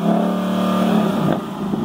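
A 2018 Ford Mustang GT with a fuel-injected 5.0 engine revs loud and close, holding a steady droning rumble that rises in pitch before easing off.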